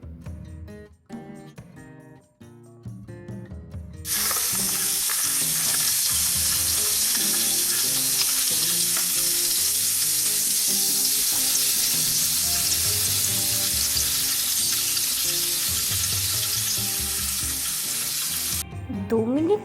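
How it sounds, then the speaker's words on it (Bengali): Eggs fry in hot mustard oil seasoned with turmeric and salt, bursting into a loud, steady sizzle that holds for about fifteen seconds after a few quieter kitchen clatters, with scraping stirs underneath. "এবার তেল সামান্য গরম হলে 1 চিমটে হলুদ ও 1 চিমটে লবণ দিয়ে ডিমগুলি ভেজে নেব।"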